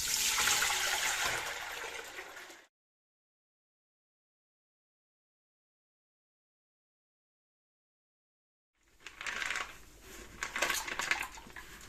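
Soaked maize and chickpeas are emptied with their soaking water into a large saucepan, a loud wet splashing and rattling pour that stops abruptly, followed by a long silence and then more sloshing and clinking.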